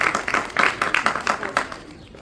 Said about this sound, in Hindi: ताली तो बजती रहनी चाहिए।